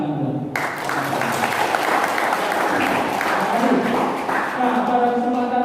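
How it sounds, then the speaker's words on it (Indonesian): Church congregation at a Baptist church gathering breaking into sustained applause that starts abruptly and carries on steadily, full and close, with a voice faintly heard underneath. "Tepuk tangan buat."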